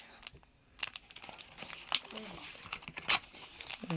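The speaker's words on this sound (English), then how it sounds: "Alright, we can rip it now," A Garfield sticker package being ripped open, with close crinkling and tearing of plastic wrapping in short bursts while people talk over it.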